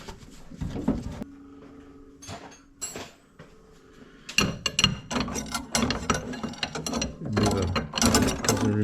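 A homemade steering box remover working on a 1972 Mazda RX2, repeated close ratcheting clicks and metallic mechanical grinding in uneven bursts, busier in the second half.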